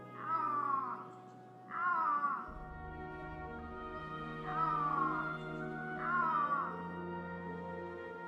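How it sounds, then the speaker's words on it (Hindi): Several drawn-out, wailing Iberian lynx calls come in pairs over about eight seconds, fairly close, with a low steady hum underneath. "दुनिया की सबसे डरावनी बिल्ली आइबेरियन लिंक्स की दहाड़ एक दहशत पैदा करती है।"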